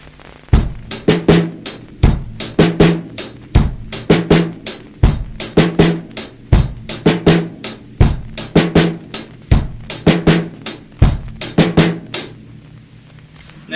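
A drum kit plays a sixteenth-note snare groove, with pairs of sharp snare hits one sixteenth apart over steady hi-hat ticks. The loud, close pattern repeats evenly for several bars with no voices.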